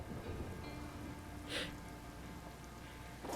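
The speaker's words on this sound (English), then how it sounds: "Time to drive in the fucking crazy storm." Storm rain in the video game Life is Strange Remastered, a steady wash of falling rain with a brief brighter burst midway, heard on its own without talk.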